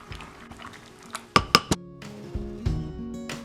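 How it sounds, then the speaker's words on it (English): A spoon stirs pistachios in hot water, clinking and scraping against the bowl in a few sharp knocks between softer liquid swishes, close and moderately loud. "Give it a stir."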